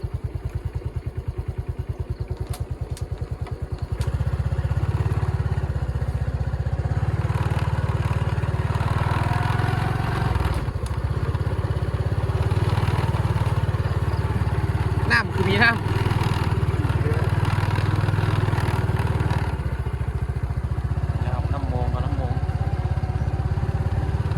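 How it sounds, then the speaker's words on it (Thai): A rice combine harvester's engine running during the rice harvest season, a steady low mechanical drone with rattling and clatter, loud and close, with someone talking over it at times. "นี่นะครับคือรถเกี่ยวนะครับ"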